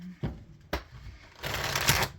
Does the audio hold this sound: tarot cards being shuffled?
yes